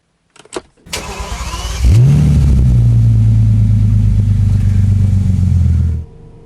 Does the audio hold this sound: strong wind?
no